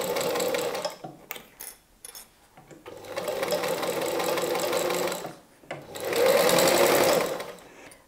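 A domestic sewing machine stitches a doubled 2.5-inch fabric binding onto a small fabric pumpkin basket, running in three bursts of steady whirring separated by short pauses, close and fairly loud, with no talking.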